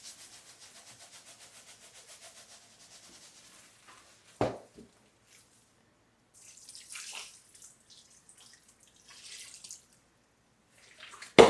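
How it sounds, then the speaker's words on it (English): Water poured in faint, scattered splashy bursts into a wild game sausage mixture during mixing and seasoning, after a stretch of soft regular ticking and a single sharp knock, with no talking. "I'm just going to keep adding seasoning and water."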